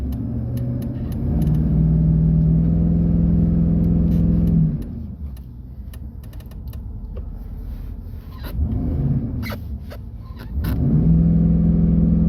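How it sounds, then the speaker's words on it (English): A 2016 Chevrolet Silverado pickup on old Bridgestone tires with traction control off, revving hard and attempting a burnout on a snow-covered road, loud sustained engine roar that drops off briefly before surging again. "I figured I'd give these old Bridgestones one last send-off since I've never actually done a burnout in this truck."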